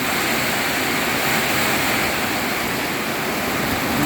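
A storm hits a garden home, with strong wind roaring through the trees as a loud, continuous, broadband rush that stays steady throughout, with no talking.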